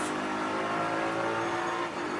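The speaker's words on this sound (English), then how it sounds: "Right, now a chance to really open up that BMW engine." A car with a BMW engine accelerates hard on a test track, a loud continuous engine roar rising in pitch over about two seconds, with no talking.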